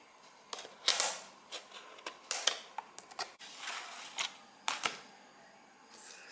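A Gizga Essentials 6-in-1 gadget cleaning kit package is unboxed up close, with quiet scattered clicks, snaps and crinkly rustles of packaging coming in short irregular bursts between near silence.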